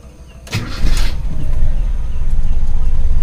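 A carbureted Toyota Kijang engine, already warm, cranks briefly with a loud starter whir and catches, then settles into a steady, close idle.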